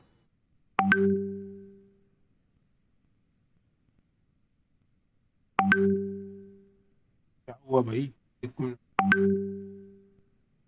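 A bright electronic chime rings three times, spaced several seconds apart, each tone ringing out and fading; someone speaks briefly between the last two.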